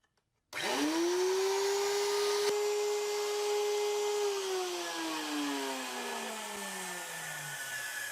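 A power tool spinning a 1/4 inch bit cuts into wood, a loud steady whine that holds its pitch for several seconds before sagging lower as the cut winds down, with no talking.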